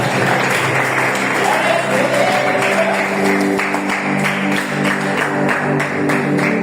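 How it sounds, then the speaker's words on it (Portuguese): A church congregation claps together in sustained, loud applause that rolls on steadily, while sustained music tones play underneath. "dá a melhor salva de palmas para o Rei da Glória que você quer"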